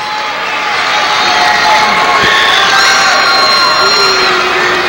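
A basketball crowd of Paducah Tilghman fans cheers and shouts at Rupp Arena during a 1996 Sweet 16 high school tournament game against Ashland Blazer, a loud, sustained roar of voices and whoops filling the whole moment without a break.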